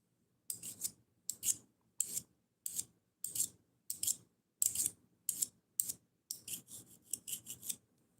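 A screwdriver is scraped along a knife's edge to dull it, about a dozen close, gritty rasping strokes in a steady rhythm that quickens toward the end; no talk.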